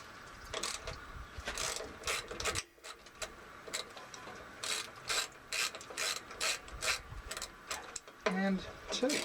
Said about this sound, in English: we're going to unbolt the 2 bolts you can see right here and here